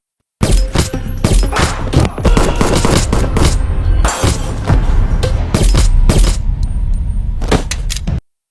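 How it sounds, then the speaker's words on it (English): Rapid bursts of loud movie gunfire crack repeatedly over a dense, continuous roar, shots clustering into volleys with brief gaps between. "An armed attacker bursts in and opens fire."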